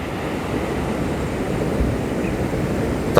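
Ocean surf at Karangpapak beach near Pelabuhan Ratu, Sukabumi, roaring as a steady, loud wash of waves with wind, continuous and close, with no voices.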